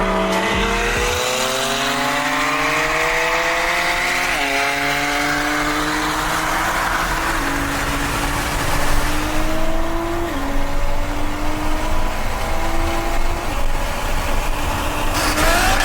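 A built BMW M2 Competition and an Alpha 8 Nissan GT-R race on a road in Mexico, engines screaming up through rapid gear changes, loud and close, then wind roar as they pass.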